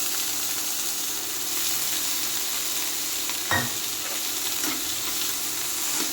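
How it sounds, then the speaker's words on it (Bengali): Chopped onion, tomato and garlic fry in a pan with a loud, even, continuous sizzle, close up, with a single brief clatter near the middle. "পেঁয়াজ আর এখানে টমেটো আর রসুন কুচি কুচি করে কেটে নিয়েছি, ওটা ভেজে নিচ্ছি"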